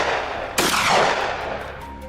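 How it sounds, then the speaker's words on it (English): Hunters fire guns together at a herd of wild boar: one loud, sharp gunshot cracks close by and rings out through a steady outdoor background. "We couldn't miss the opportunity and opened fire together."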